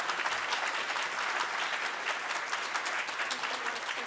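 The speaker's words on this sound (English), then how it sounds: "please, if you'll give them a round of applause" A community civic association's 25th anniversary crowd gives a round of applause, dense, even clapping that fills the whole stretch at a moderate distance, with no talk over it.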